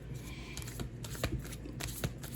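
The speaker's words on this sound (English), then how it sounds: "I knew there was a reason I felt like I needed to keep shuffling." A tarot card deck is shuffled in quick, soft riffling bursts, close and quiet, with brief crisp flutters repeating over a couple of seconds.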